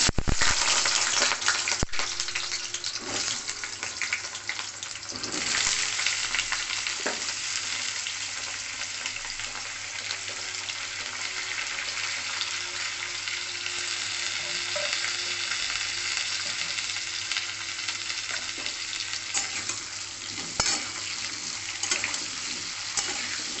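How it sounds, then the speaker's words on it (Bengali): Pumpkin pieces frying lightly in hot oil with salt and turmeric give a constant loud sizzle and crackle, broken by occasional spatula scrapes and taps, with no voices. "এবার কুমড়োটা আমি নুন আর হলুদ দিয়ে হালকা করে ভেজে নেবো"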